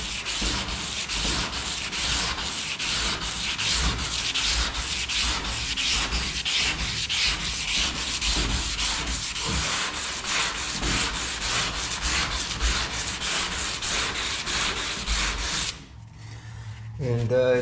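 Steady, close sanding rasps across the chopped metal top of a 1937 Nash car, a continuous scratchy rubbing with quick rhythmic strokes that stops abruptly near the end.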